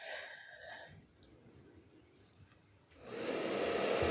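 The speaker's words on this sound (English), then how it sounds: "I first spread the cell activator over the colors with my blow dryer on a low speed" A blow dryer blows acrylic paint and cell activator on canvas, first on low speed with a soft steady whir, then fading before surging louder and stronger near the end.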